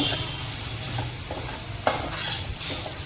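Red chili and garam masala spices are stirred in a hot frying pan, giving a steady sizzle with soft scraping strokes of the spoon and one sharper clink, close and continuous with no speech.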